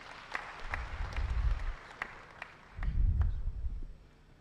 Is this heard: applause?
yes